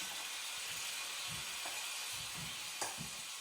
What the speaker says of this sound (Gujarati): અને આપણે નાખી દઈશું થોડાક તેલમાં. હવે એમાં આપણે નાખશું બટાકાનો માવો.